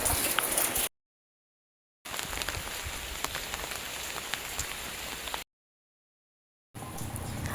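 Monsoon rain in Virajpet, Coorg, falls in a steady, dense hiss of drops striking surfaces. It cuts to complete silence twice before resuming.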